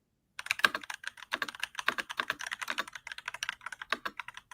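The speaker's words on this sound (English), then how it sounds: "this is some keyboard ASMR from me to you" Rapid clacking of computer keyboard keys being typed for ASMR, a steady close-up patter of individual keystrokes heard alone without talk.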